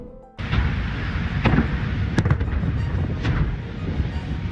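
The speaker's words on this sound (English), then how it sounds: "Firefighters battled the heat and hundreds of exploding propane tanks at a business fire near Sky Harbor." Hundreds of propane tanks burst during a large business fire near an airport, heard as a steady roaring crackle with several sharp bangs and pops standing out, loud and continuous with no speech.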